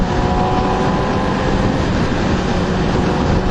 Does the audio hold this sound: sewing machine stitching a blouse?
no